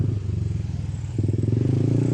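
Motorcycle with a loud aftermarket exhaust muffler rides at slow speed, a steady, close, throbbing low exhaust note that picks up slightly partway through.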